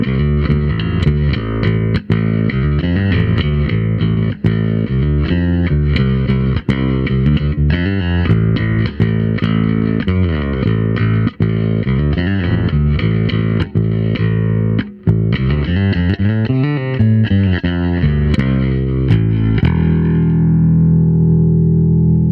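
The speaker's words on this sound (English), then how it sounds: "the neck or the bridge pickup by itself does have a little bit of hum to it" Bass guitar riffs on the bridge pickup played through a Line 6 Helix amp model with a brighter, edgier tone, ending on a held note that fades with a faint hum underneath.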